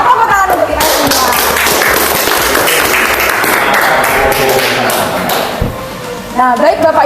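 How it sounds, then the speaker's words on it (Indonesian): Teachers at a school mentoring session break into loud, dense applause that fills the room for several seconds, then thins out into scattered claps and voices at the end. "tepuk tangan untuk kita semua."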